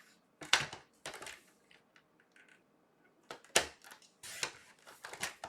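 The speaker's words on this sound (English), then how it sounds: "So what we're going to do is we're going to just cut that off." Paper card being trimmed, the top cut off with crisp snips and crunches, a few close sharp bursts separated by quiet gaps, no voice.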